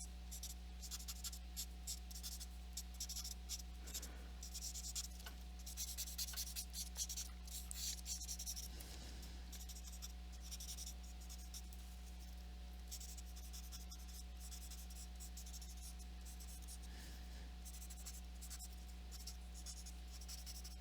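Soft, steady rubbing and scratching of a tortillon blending charcoal on paper continues throughout, a quiet dry swishing with no talk.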